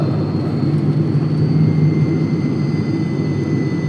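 Steady broadband jet engine roar inside an airliner cabin during a flight to Bangalore, loud and continuous with a low droning hum throughout and no talking.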